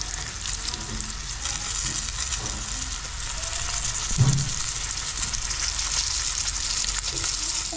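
Dried fish (tuyo) and eggs fry in a pan with a steady, close hiss of oil and a brief louder pop partway through, and no voices.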